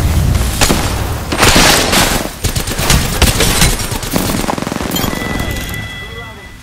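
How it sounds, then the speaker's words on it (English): A grenade explosion in Apex Legends, with a loud booming blast and crackling bursts mixed with gunfire, fading into a lighter ringing tail. "Tossing a grenade."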